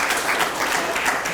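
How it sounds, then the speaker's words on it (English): Audience applause at a senior coffee event with a mayor, a brief steady burst of clapping from a room of people, moderately loud and continuous throughout. "So give him a round of applause."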